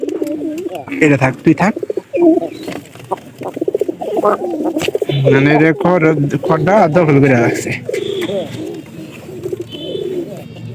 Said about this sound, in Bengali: তো আমার এই কবুতরটা যেহেতু সুস্থ হইতাছে বর্তমানে